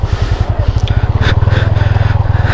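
A motorcycle engine idles and chugs in gear with a steady rapid low thump, close and loud, occasional scraping and voices faintly in the background during an attempt to ride up onto a raised surface.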